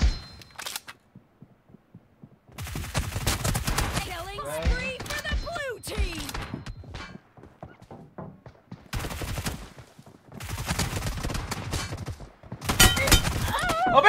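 M4 rifle fire in the mobile battle game BGMI comes in several sharp bursts of rapid shots, each separated by short quiet gaps, with players' voices talking over parts of the action.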